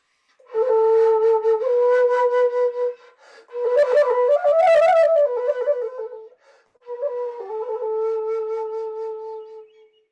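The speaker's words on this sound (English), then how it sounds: "I just played this one called the shinobue," Solo shinobue, a Japanese bamboo flute, playing three breathy sustained phrases with bright, airy high tones, ornamented slides and a fluttering burst in the middle, clear and close with short pauses between.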